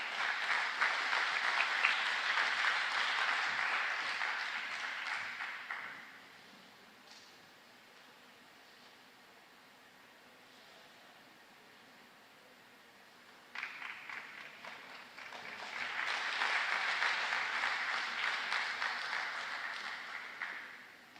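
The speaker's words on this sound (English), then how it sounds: "let's all just give Ben Goertzel and Andrew Comendo a big round of applause" Conference audience at an AGI event applauds as speakers come onto the stage: a loud burst of clapping fades into a quiet lull, then a second strong round of applause rises and carries to the end.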